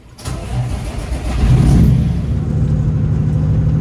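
A truck engine cranks and fires, then settles into a loud, deep, rumbling idle close by, with no voices.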